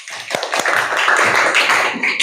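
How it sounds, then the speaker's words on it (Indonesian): Classroom applause during a fiqh teaching session, a short burst of close, dense hand clapping from students, steady and fairly loud throughout. "berikan tepuk tangan"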